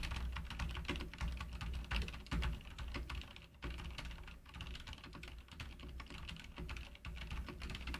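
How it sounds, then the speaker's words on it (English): Brisk, continuous typing on a new computer keyboard, with quick, close key clicks in an uneven rhythm and brief pauses, heard alone and fairly quietly. "this is what the new keyboard sounds like."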